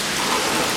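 Heavy summer rain in New Mexico pours down steadily onto surfaces nearby, a dense, even hiss with no voices.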